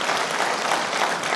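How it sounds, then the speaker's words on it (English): A large expo audience at a flight simulation show applauds first-time attendees, a loud, dense burst of clapping and crowd noise filling the short moment. "Let's give them a round of applause"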